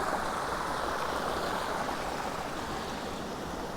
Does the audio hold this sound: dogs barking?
no